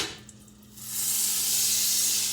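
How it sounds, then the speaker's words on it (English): Butter begins sizzling in a pan, the hiss rising after a quiet start and then holding steady and fairly loud. "I think I start to see here a little bit of sizzle with my butter."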